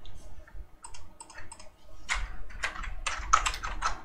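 Computer keyboard typing, a loose run of light key clicks that sometimes come in quick bursts and sometimes fall into slower single taps, close and clear with no voices.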